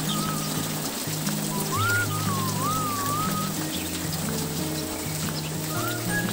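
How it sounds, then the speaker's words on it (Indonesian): Steady rain falls outside while someone cooks at home, a constant soft hiss that runs through the whole stretch beneath tonal, music-like sounds and a brief whistling chirp. "ini aku sambil masak, jadi ditemanin sama hujan terus, jadi seger"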